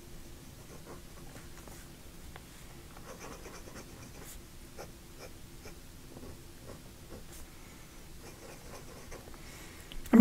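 Soft, close scratching of a PENBBS 380 Shadow aluminum fountain pen with a medium nib writing on paper, faint repeated strokes over light hiss, with a louder knock at the very end.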